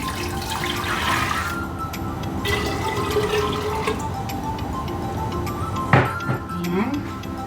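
Water poured into a cooking pot on a stove for shrimp sinigang, a steady splashing fill with a sharp clatter near the end.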